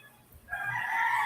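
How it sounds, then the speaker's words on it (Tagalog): A single rooster crows briefly, sounding somewhat distant and thin, with no other sounds around it. "narinig natin yung tilaok ng manok."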